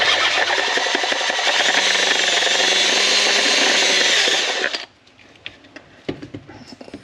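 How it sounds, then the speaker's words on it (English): A power drill bores through wood while building a DIY motorized Dobsonian telescope, a loud steady whirring grind held for several seconds before cutting off abruptly, followed by a few faint clicks and knocks. "I'm just going to be drilling through like this."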